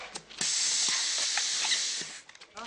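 A mechanical helium pump hisses loudly and steadily as it inflates balloons for a large balloon decoration, a sustained blast of gas lasting over a second, framed by brief clicks of the valve before and after.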